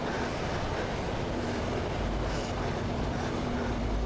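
A steady, loud roar of rushing typhoon floodwater in Pasig City fills the whole stretch, broad and continuous like a swollen torrent, with a faint low hum beneath.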